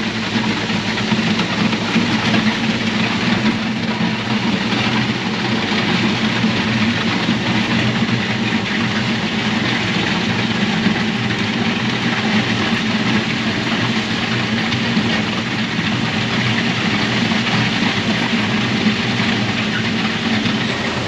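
A farm tractor's engine runs loud and steady while tearing up gravel, a continuous close rumble with no talking.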